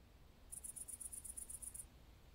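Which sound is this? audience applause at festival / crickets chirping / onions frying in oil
crickets chirping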